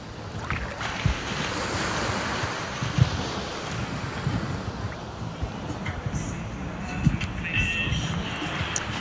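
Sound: waves on a beach in St Croix

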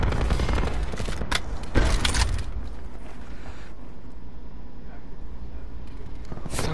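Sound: LMG machine gun firing continuously in a video game

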